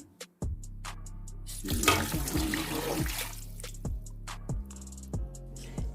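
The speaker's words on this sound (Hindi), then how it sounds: "इसमें मैं 2 कप पानी के ऐड करूंगी।" Water, two cups, pours steadily into a cooking pan of mutton for Kabuli pulao for a couple of seconds, followed by several sharp metallic clinks and knocks nearby.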